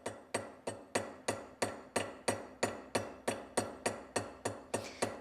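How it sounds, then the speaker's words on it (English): A small hammer gently sets a rivet on a silver charm. Light, close metallic taps come in a steady rhythm, about three per second, each clean and ringing slightly, with no talking. "Think of doing 500 hits and you'll get your rivet right."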